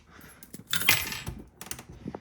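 A ring of black and silver storage compartment keys for a 2017 Open Range Light 319RLS travel trailer jangles and clinks close by in bright metallic bursts.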